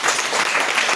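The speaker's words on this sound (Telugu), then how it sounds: "చప్పట్లు కొట్టాడమ్మా." Church congregation clapping, a dense burst of many hands applauding together, loud and close, with no talk over it.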